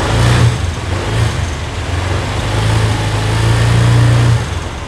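A used motorcycle engine is revved several times, its mid-pitched growl rising and falling in short throttle blips over a steady running drone, loud and close with no talk.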